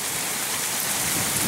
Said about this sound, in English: There's so much rain, all our pots are flooding.